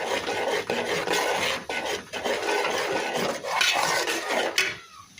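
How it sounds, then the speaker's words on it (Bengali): Fried rice flour sifted through a sieve and stirred, giving a steady close scraping, rasping rustle with faint metallic clinks, running continuously for several seconds before tapering off at the end. "ভেজে রেখেছিলাম যে চাউলের গুঁড়ি সেগুলো একটু চালনা দিয়ে এরকম করে চেলে নেব"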